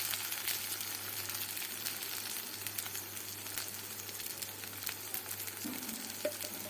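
Fish bharta made with lilontika fish fries in a pan, giving a soft, steady sizzle and crackle with scattered small pops and stirring scrapes throughout, fairly faint and with no voices.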